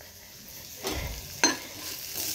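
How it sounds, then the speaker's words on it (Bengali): Round slices of bitter gourd (karela) frying in a home kitchen give a soft, steady sizzle. Two brief clinks of a utensil stirring the pan are heard close by. "এদিকে হচ্ছে গোল গোল করে করলা ভাজা"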